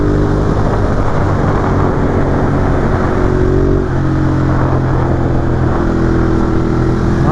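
A Ducati Monster 821 A2 motorcycle pulls through a curve, its engine droning loud and steady in the mid-range revs with a brief shift in pitch partway.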